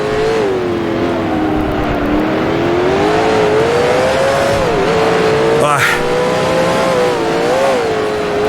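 A 1966 Can-Am race car at Mont Tremblant in Grand Prix Legends, its engine holding a loud steady droning whine that dips and rises with gear changes, with a brief tyre squeal partway through.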